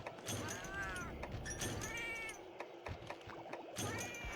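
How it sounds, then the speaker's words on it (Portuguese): Cat companions in Monster Hunter Portable 3rd meow again and again, with rising and falling cries packed together over the game's background sound. "Tem dois gatos, coragem."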